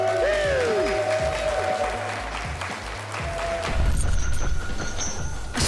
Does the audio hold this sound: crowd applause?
yes